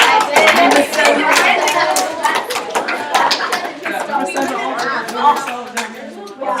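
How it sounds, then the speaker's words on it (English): Children in a classroom clap together in a brief burst, loud uneven hand claps mixed with chatter and voices of kids and a teacher talking over it. "Everyone give each other a round of applause. Clap, clap, clap."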